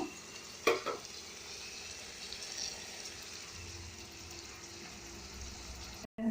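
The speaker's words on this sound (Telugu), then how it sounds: "ఉల్లిపాయలు వేయడానికి సాల్ట్ వేసి తొందరగా వేగిపోయి ఇలా సిమ్లో పెట్టి మనం ఉల్లిపాయలు అయితే ఫస్ట్ వేసేద్దాము" Onions fry in oil over a low flame, giving a soft, steady sizzle. A brief clatter of a utensil comes near the start.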